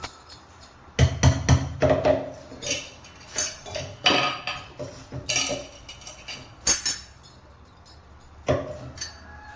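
Urad dal powder being stirred into sugar syrup for ulunthan kali, a metal spoon scraping and clinking against a pot in irregular bursts, fairly close and alone.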